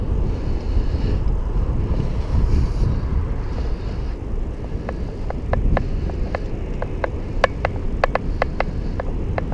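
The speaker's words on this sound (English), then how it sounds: "it's pretty windy" Steady, loud wind buffeting a GoPro Hero 4 Silver microphone outdoors on a bike ride, a continuous low roar with sharp clicks and taps growing more frequent in the second half.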